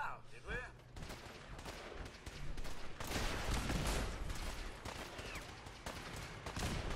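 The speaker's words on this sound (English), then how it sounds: "You guys gonna stop shooting at each other anytime soon?" Gunfire in Fallout 4 crackles in dense bursts and scattered single shots, a rapid exchange between several shooters that swells louder midway, with sounds of combat mixed in.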